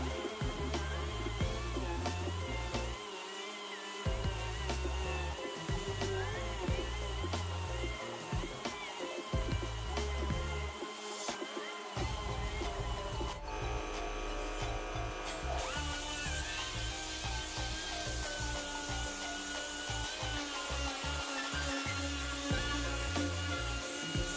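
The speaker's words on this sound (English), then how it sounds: "Using a DA grinder with some 80 grit sandpaper, now it's time to level up the body filler to match the surface" A dual-action sander with 80-grit sandpaper levels body filler on a Pontiac Trans Am being painted as Knight Rider's KITT. It gives a steady, close whirring grind that runs the whole time over a pulsing low background beat.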